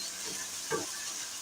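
Chopped tomatoes fry in a spiced masala for dhaba-style white urad dal, with a steady soft sizzle and a couple of brief stirring scrapes of a spoon in the pan.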